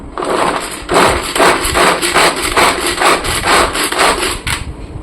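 A Tupperware pull-cord chopper chopping carrots gives a steady run of rasping, clattering bursts, roughly two or three a second, loud and close with no talking.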